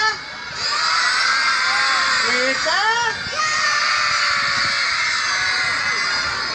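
A group of children shout loudly together in a sustained, noisy clamour, with a single voice briefly speaking over the din.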